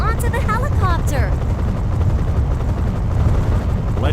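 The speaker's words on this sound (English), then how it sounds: "Get Major Rossi onto the helicopter" A helicopter in the Metal Slug 3D video game gives a loud, constant low rotor roar that fills the whole moment, with chirpy game sound effects and voices laid over it.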